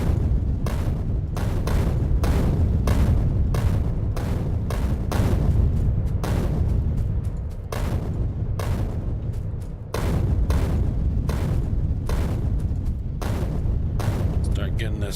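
Repeated grenade blasts from the game Factorio clear a forest, a dense run of heavy booming explosions packed close together and sustained throughout, with a brief lull partway through.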